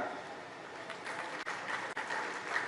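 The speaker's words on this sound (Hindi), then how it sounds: "आप सबसे विनती आप कृपया तालियां बजाइएगा" Audience applause at an official award-letter ceremony, a brief steady patter of many hands clapping together at moderate volume with no talk over it.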